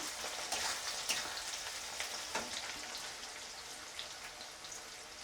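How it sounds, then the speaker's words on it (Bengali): Chopped onions, about 200 grams, sizzle steadily in hot oil in a pan while being stirred, with scattered crackles and soft scraping over a constant hiss, close and moderately loud, with no talking. "পেঁয়াজটা দিয়ে এরকমভাবে নাড়িয়ে নিচ্ছি একটু"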